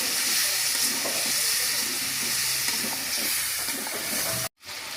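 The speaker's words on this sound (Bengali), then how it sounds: "মশলাটি কষিয়ে নেব।" Fried meat and a spice paste of onion paste, salt, turmeric and chili powder sizzle steadily in a pan, a dense, continuous close hiss that cuts out abruptly near the end.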